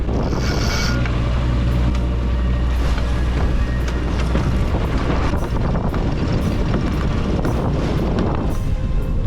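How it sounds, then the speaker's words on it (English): Steady, loud wind roars at sea aboard a sailboat running with the breeze on the side and the Genoa out, a continuous buffeting rush with water noise and microphone gusting throughout. "So there's already some wind out there, pretty much on the side now"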